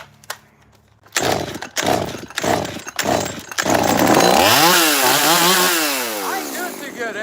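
A 171 chainsaw, started on choke, sputters through several short pulls before catching, then roars loudly with its revs rising and falling at close range.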